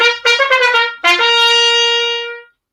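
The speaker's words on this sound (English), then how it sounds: "it gives a nice crystal clear buzzing sound." Trumpet played with a straight mute, giving a bright, buzzing, nasal tone: a few quick detached notes followed by one long sustained note that fades out, close and alone.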